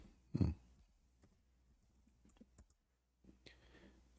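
A computer keyboard is typed on quietly in a near-silent room, with scattered soft key clicks and one louder thump at the start.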